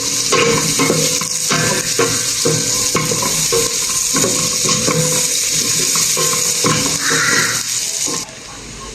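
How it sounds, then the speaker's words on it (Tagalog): Onion and garlic sauté in a hot pan, a steady loud sizzle broken by repeated scraping and stirring strokes of a utensil, with a voice speaking briefly over it. "Hintayin natin maluto ang sibuyas sa bawang"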